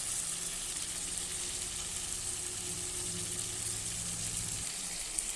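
Ginger garlic paste frying in a pan alongside tomato and salt gives a steady, loud, close sizzle that holds evenly throughout, with no voices.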